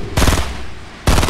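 Two loud, close bursts of rapid gunfire in Fortnite, separated by a short gap in a tense firefight.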